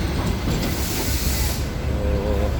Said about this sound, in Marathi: दुपारी दोन वाजताची ट्रेन आहे ही